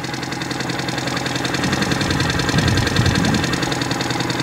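A motor boat engine drones steadily on a lake, a loud, close, continuous mid-pitched hum with a faint knocking vibration and no pauses.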